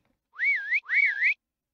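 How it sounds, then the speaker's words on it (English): Two identical rising-and-falling whistle tones play back to back in a Minecraft 1.18 DireWolf20 modpack game, each about half a second long, clean and isolated against silence. "It whistles."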